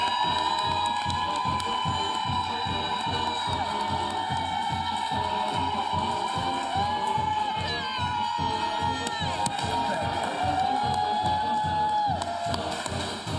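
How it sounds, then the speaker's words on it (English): Crowd at a Mississippi State commitment announcement during the All-American Bowl, roaring with sustained cheers, whoops and shouting plus scattered clapping, a dense, continuous wall of noise with a few louder swells. "the loudest cheering section so far"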